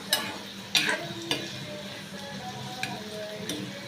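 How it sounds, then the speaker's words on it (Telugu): Amla (Indian gooseberry) pickle bubbling and sizzling in oil while being stirred up and down, a low steady fry broken by a few sharp clicks of the spoon against the pan. "ఇలా బాగా కిందకి పైకి మిక్స్ చేస్తూ బాగా బాయిల్ చేసుకోవాలి."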